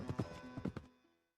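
Horse hooves clip-clop in a quick, uneven series of hollow knocks, about five strikes up close, fading to silence at the end.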